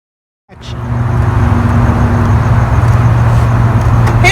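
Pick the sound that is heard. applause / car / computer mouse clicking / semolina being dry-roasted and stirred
car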